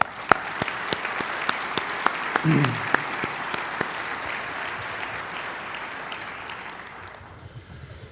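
Large convention audience at the AFN 2022 gathering applauds storm responders during the Alaska Governor's speech, a sustained wash of clapping with a few sharp claps up front, fading out near the end.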